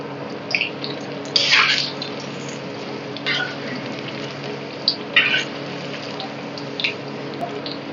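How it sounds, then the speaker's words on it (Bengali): Baby corn is deep-fried a second time in hot oil, heard as a continuous close bubbling sizzle with scattered sharper crackling pops throughout. "সেকেন্ড ফ্রাই করছি আমরা।"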